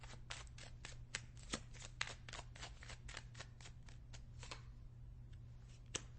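Tarot cards riffled and shuffled close up, a rapid run of crisp flicking snaps that slows and thins toward the end, quiet overall.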